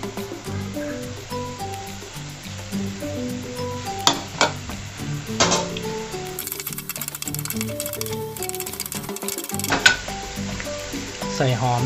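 Mushrooms and fresh shrimp stir-fry with oyster sauce and seasonings in a pan, giving a steady sizzle with scraping, clinking utensil stirs while someone talks over it.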